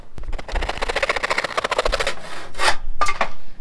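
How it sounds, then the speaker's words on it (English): A hand saw with some missing teeth cuts through a small piece of square wood held in a clamp. It makes rhythmic rasping back-and-forth strokes, close and loud, with a brief stop where the saw seems to catch. "the first thing I'll do is cut this little bit of square wood out"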